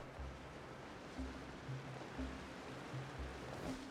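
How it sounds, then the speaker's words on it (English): Roaring waterfall in the video game Genshin Impact, a steady low rushing wash of falling water filling the whole clip at a faint level, with soft muted musical notes pulsing underneath. "the roar of the falls drowns out everything else so you can't hear a thing"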